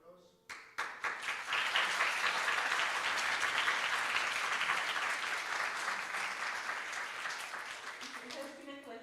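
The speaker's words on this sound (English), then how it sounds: "let's thank Dr. Gilek, please, with applause" A congress audience breaks into sustained applause, starting with a few claps and swelling into dense steady clapping that slowly tapers off near the end.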